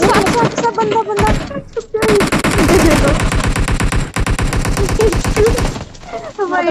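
Gunfire in a battle royale video game: rapid machine-gun bursts and rattling fusillades, loud and close, broken by a brief pause, with people talking over the shooting.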